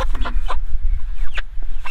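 Meat chickens crowded in a tractor pen cluck in short, overlapping calls, close and fairly loud over low background rumble.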